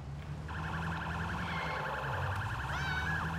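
A police car siren in the video game Sleeping Dogs: Definitive Edition wails steadily and loudly from start to finish, a continuous cycling tone with no speech over it.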